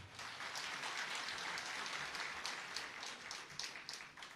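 A crowd of booth presidents at a Gujarat political party gathering claps together on request, a dense, sustained round of applause that swells and stays loud throughout with no talk over it.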